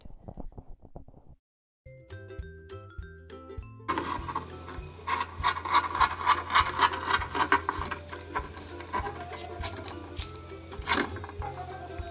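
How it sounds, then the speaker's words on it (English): Hairbrush dragged repeatedly through flattened strands of yarn while making a DIY yarn feather, a scratchy rubbing rasp in uneven strokes, close and fairly loud, following a few soft clicks at the start. "I like to use the hairbrush just to flatten all the strands out."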